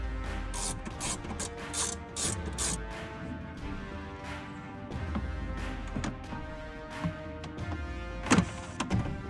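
Bolts holding a bar on a Ram TRX are tightened during an intake install, with quick rhythmic ratchet clicks up close at first, then scattered mechanical clinks and taps against a low background hum.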